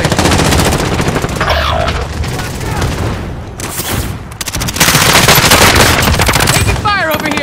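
Rapid automatic gunfire and sustained bursts fill a Call of Duty: Modern Warfare multiplayer match, loud and close, with brief lulls, background combat noise and game voice callouts over it.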